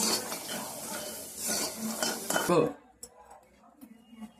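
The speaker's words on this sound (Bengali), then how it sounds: "এটাকেও আমরা একটু শুকনো কড়ায় একটু নেড়ে চেড়ে জাস্ট গরম করে নেব।" Cashews stirred in a dry wok with a metal spatula, giving busy scraping and clinking for about two and a half seconds before they stop, leaving only faint scattered taps.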